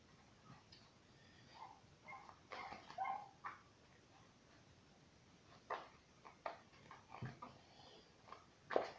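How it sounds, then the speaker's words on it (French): A neighbour's dogs yelp, whine and bark faintly off in the distance, in scattered bursts over a quiet background. "j'espère que vous n'entendez pas trop les chiens de ma voisine."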